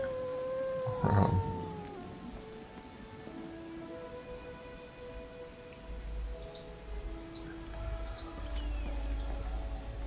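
A dog howls mournfully in the video game Pathfinder: Kingmaker, a loud rising-and-falling wail near the start followed by softer, sustained tonal cries over ambient game music.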